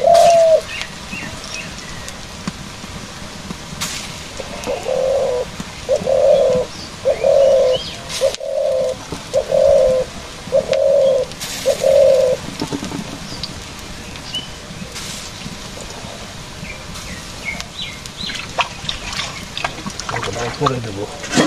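A ghughu dove coos nearby in a village, a steady series of about seven rhythmic soft calls with faint background chatter and other birdsong around it.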